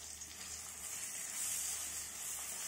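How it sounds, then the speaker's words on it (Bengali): Spices, chilli powder and sliced tomato frying together in a pan for a jackfruit and prawn curry, a steady quiet sizzle with a faint airy hiss throughout. "সব আমি একসঙ্গে মশলাগুলো কষে নিচ্ছি"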